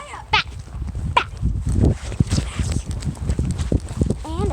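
Pony hooves clip-clopping on ground while being ridden, irregular close thuds under a person talking and calling out, with a brief high squeak near the end.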